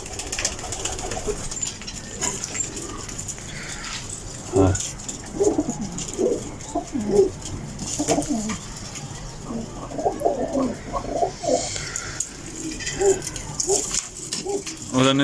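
Pigeons coo repeatedly in a loft, low throaty calls overlapping one another with occasional wing and movement noises, while someone talks over them in Arabic.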